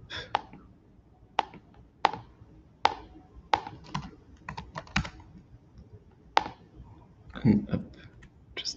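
Keyboard typing with sharp, scattered key clicks and occasional mouse clicks at close range on a computer during a crypto testnet setup, irregular bursts with pauses between, no talk.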